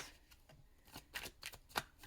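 Oracle cards are shuffled in a series of soft, quick riffling flicks and taps, close and quiet, several bursts in a couple of seconds.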